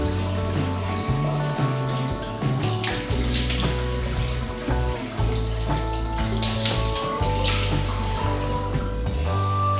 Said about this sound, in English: you can just go ahead and then completely wash off the oatmeal